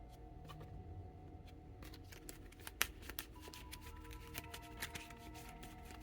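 Event cards for a board game are shuffled by hand, producing soft papery riffles and flicks. The faint, close sounds come in uneven bursts, with a few sharper snaps, and no one speaks.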